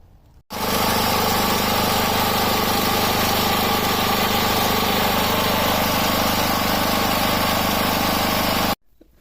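A 5.5 kW generator engine runs at idle on a natural gas carburetor, with a loud, steady, close drone and vibration that continue without a break for about eight seconds before cutting off.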